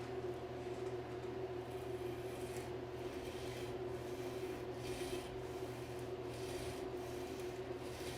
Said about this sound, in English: I went back and filed it again.